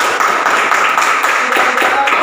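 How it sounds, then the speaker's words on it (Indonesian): A primary school class claps for every group after a project lesson on series and parallel electric circuits, a loud, continuous wash of close, fast clapping that fills the room. "Tepuk tangan dulu untuk semua kelompok."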